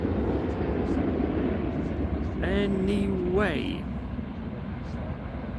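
A fully laden Ryanair jet airliner takes off at Manchester Airport, a steady broad engine roar holding loud throughout, with a voice briefly speaking over it.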